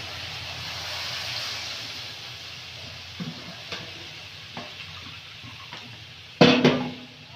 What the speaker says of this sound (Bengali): মশলা থেকে তেল ছেড়ে গেছে, এই দেখুন। এবারে জলটা দিয়ে দেব।